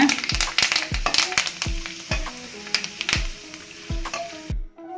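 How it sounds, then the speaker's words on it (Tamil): Curry leaves fry in hot oil while an omapodi snack is made at home, a steady sizzle broken by a series of sharp metallic knocks from a utensil. "இப்போ கருவேப்பிலை ரெண்டு பொறிச்சிக்கலாங்க"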